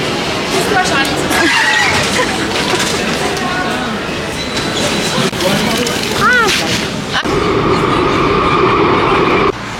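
A tram ride through Paris: a steady rolling rumble with rail clatter and a brief high squeal, while people talk over it throughout.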